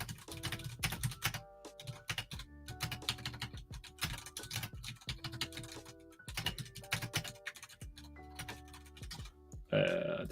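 Rapid clattering keystrokes on a computer keyboard, close and fairly quiet, arriving in uneven bursts with brief pauses between them, ending in a short louder clack.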